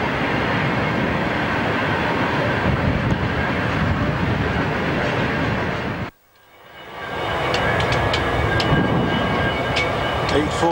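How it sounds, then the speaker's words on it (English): A northbound train idles at Lightning Creek, a steady loud rumble filling the air, briefly cutting out before swelling back with faint clicking and higher tones above the drone. "The northbound train is still waiting."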